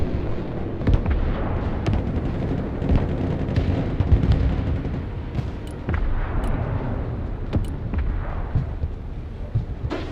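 Rapid artillery auto-fire in the video game Broken Arrow, a dense run of booming shots and blasts repeating quickly throughout, loud and continuous over a rumbling battlefield backdrop.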